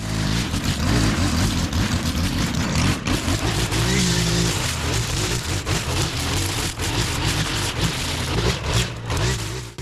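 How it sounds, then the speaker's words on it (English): Rain falls steadily on an overgrown garden with heavy wet grass, making a dense, even hiss that runs loud and unbroken throughout. "At this point it already started raining."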